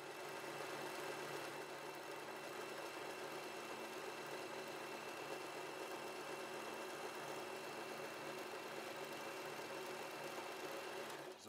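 A W6 N 1800 sewing machine runs steadily while stitching a seam repair in underwear fabric, a continuous faint even whir and rapid needle patter lasting throughout with no voices.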